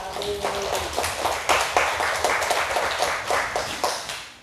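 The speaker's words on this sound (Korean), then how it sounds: "나를 구원해 주신 하나님께 영광의 박수 올려드립시다." A church congregation at a Wednesday worship service claps in a steady, lively rhythm, many hands applauding together in a room for several seconds.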